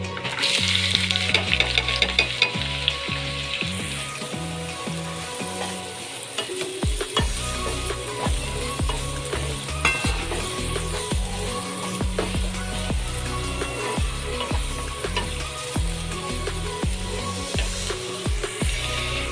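Onion sizzles loudly in hot oil with whole spices for chicken keema masala. The frying hiss runs steadily throughout, with frequent clinks and scrapes of stirring in the pan.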